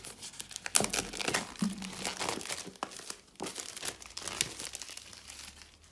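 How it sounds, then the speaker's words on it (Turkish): Plastic shrink wrap peeled and crinkled off a Huawei MediaPad T5 10.1-inch tablet box, a close, continuous run of crackling rustles and small tears lasting several seconds with no talk. "Şimdi Gördüğünüz gibi jelatinini açıyorum."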